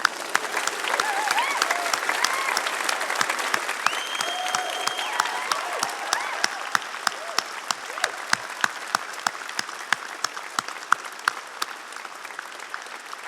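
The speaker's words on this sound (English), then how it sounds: "stand up, graduates, turn around and applaud your support teams" Standing graduates at a University of Lincoln graduation ceremony applaud in a large hall, a sustained bed of crowd clapping with crisp nearby claps throughout, mixed with a murmur of voices and a few whoops.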